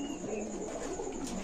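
A pair of racer pigeons in a caged stall at a pigeon market coo softly and repeatedly against a busy, noisy background.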